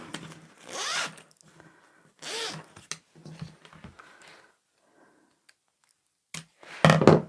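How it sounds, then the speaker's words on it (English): Several short zipper rasps as sliders are pushed along a zip tape while sewing fluffy bags, separated by pauses and soft handling knocks, with a louder burst at the end. "So you'll move these sliders out of the way as you go, and that way your zip is always going to be closed."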